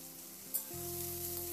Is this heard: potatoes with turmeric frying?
yes